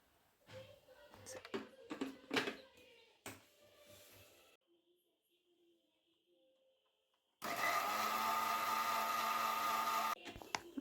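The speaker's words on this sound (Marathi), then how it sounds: "आता थंड झाल्यावर ते मिक्सरला लावूया." A kitchen mixer grinder runs on cooled gravy masala for paneer tikka masala, bursting into a loud, steady whirring drone after quiet handling noises, then cutting off abruptly about three seconds later.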